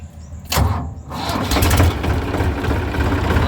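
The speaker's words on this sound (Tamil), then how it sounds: "இப்போ நியூட்ரல் பண்ணிவிட்டு நம்ம வண்டியை ஸ்டார்ட் பண்ணலாம்." A tractor engine starting in neutral: a brief cranking burst, then the engine catches and settles into a loud, steady rumbling idle close by.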